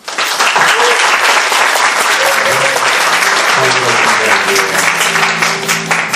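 An audience claps loudly and continuously after a presentation at an idea contest, close and dense applause throughout, with a few voices briefly audible underneath.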